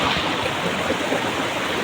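A river flows below a walking route, giving a steady, close broadband rush of moving water that fills the whole stretch without a break, and no voices are heard.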